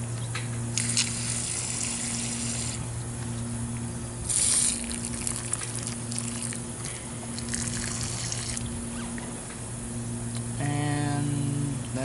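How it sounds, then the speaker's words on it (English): Water poured onto the soil of a potted Christmas cactus during repotting, a steady gush and trickle over a low hum, with a louder splashing burst near the end. "Just get this one a good water, because there's a lot of soil here"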